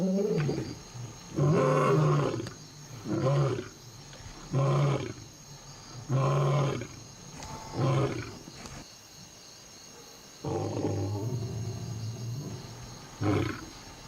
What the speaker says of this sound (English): lions often roar in chorus